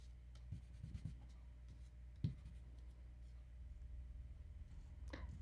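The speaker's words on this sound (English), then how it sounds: "So we're just sponging the edges." Quiet, soft dabbing and rubbing as a sponge presses ink onto the edges of a paper card. There are a few brief taps and scuffs close by over a near-silent background.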